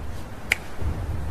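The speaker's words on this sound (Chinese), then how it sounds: "那你就看我的响指为好" A single crisp finger snap cracks out once, sharp and close, against a quiet, faintly humming background.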